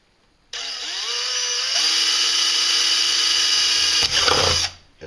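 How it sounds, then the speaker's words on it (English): A power drill bores holes into the can of a homemade wood gas stove, a steady high whine that starts abruptly, builds slightly, then grinds briefly before cutting out after about four seconds. "Want to take and drill a hole"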